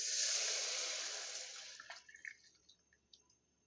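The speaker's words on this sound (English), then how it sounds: "Carefully, I'm going to pour this without stirring it" Liquid poured steadily into a cooking pot for mock chicken alfredo, a close hissing pour lasting about two seconds, then a few faint drips and small clinks.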